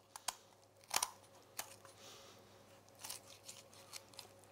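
Scissors snip and crunch along the backbone of a raw poultry carcass, a few sharp close clicks and cuts spread unevenly with quiet pauses between.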